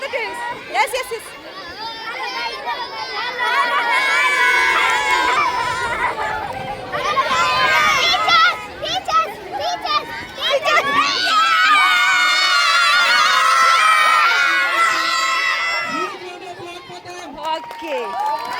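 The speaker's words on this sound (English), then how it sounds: "Cheer for the teams. Cheer for the teams." A school crowd at a teachers versus students football match, children shouting and cheering loudly and almost without pause, with excited voices rising and falling together close by.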